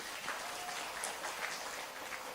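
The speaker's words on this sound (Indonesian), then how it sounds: "Tepuk tangan dhisik." Applause from an audience at an Islamic religious gathering (pengajian), a quiet, continuous patter of clapping heard at a distance with no one talking over it.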